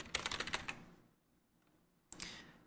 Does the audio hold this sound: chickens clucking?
no